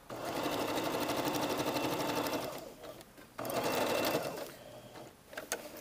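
A sewing machine stitches in a blouse sleeve, a close, steady mechanical hum with a fast needle rhythm that pauses briefly twice before resuming, with faint talking underneath.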